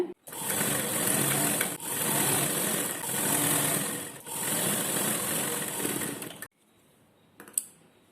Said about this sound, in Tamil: கீழே தையலை பெருசு பண்ணி நீங்கள் இங்கே தைச்சிட்டு வந்துடுங்க